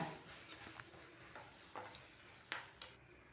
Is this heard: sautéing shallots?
yes